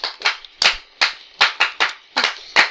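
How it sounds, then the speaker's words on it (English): One person clapping alone, about nine separate, sharp hand claps in an uneven rhythm, close and loud with brief silences in between. "Can you stop clapping, boy?"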